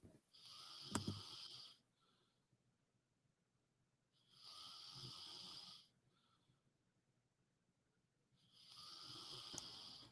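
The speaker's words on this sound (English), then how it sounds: "Can we have a moment of silence for his snoring, please?" A sleeping man snores in three long, even rasping breaths spaced several seconds apart, each followed by near silence, close and fairly quiet with no talk.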